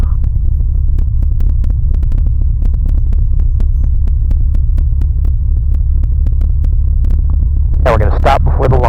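A Zodiac 601/650 light aircraft taxis around a run-up area with its engine throbbing in a loud, steady low rumble close by, holding constant throughout, with a brief burst of other noise near the end.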